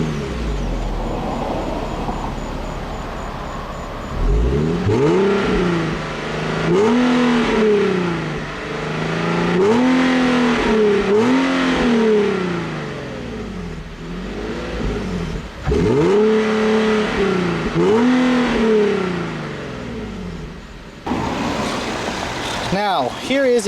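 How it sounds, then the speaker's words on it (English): Exhaust of a 2012 Infiniti G37 with its 3.7 liter V6 revving, a loud idle lifted into repeated sharp rev climbs and drops, about six blips in a row, close by. "let's show you guys an exhaust clip really quick"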